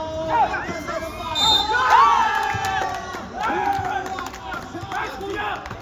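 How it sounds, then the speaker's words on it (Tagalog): Sharjah supporters shout and cheer in a dense, continuous crowd roar at a CBL Papawis quarterfinal basketball game against Ajman Ballers, with a commentator talking excitedly over the noise throughout. "Grabe ang sigaw ng mga taga-Sharjah dito."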